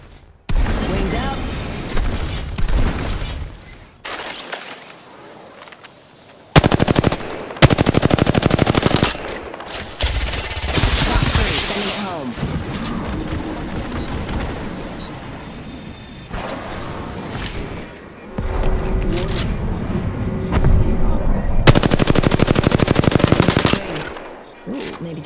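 Automatic weapon fire in the battle-royale shooter Apex Legends: loud, rapid bursts of gunshots in several clusters with booming impacts, under a voice speaking across the fight.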